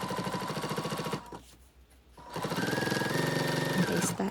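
A sewing machine basts a padded backpack strap, a steady close mechanical chatter that stops briefly in the middle and then resumes at the same even pace.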